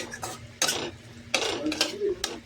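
Spice paste of coriander, Kashmiri chili and turmeric cooking in a pan for Kashmiri aloo dum, heard as bursts of spoon scraping and clattering against the pan over a faint sizzle.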